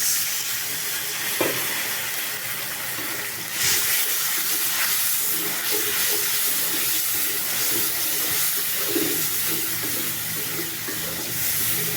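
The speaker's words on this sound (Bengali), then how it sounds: "এবার মশলাটা কষানো হবে" Spices with ginger and cumin paste frying with ilish fish and spinach in a pan, a steady loud sizzling hiss lasting throughout, with occasional faint clinks of stirring.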